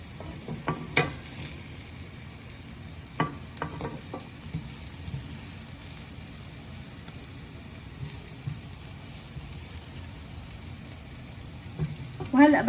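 Onions browning in a pan for Lebanese fish sayadieh, a steady close sizzle with a few scrapes and clinks of a utensil against the pan, no talking.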